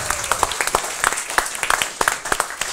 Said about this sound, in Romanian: Hai o rundă de aplauze pentru Ciprian care la sunet aici la Lumii și ne ajută.